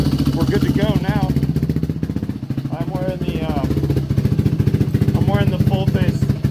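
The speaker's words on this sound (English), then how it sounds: "I had to play with the fuel screw a little bit before I could get it to start, but we're good to go now." Yamaha WR450F dirt bike engine idling and revving with a steady, rapid thump, while someone talks over it close up.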